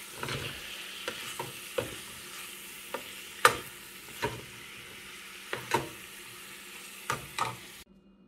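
Hot oil sizzles steadily in a pan while frying, broken by sharp pops and spits at irregular intervals, then cuts off abruptly near the end.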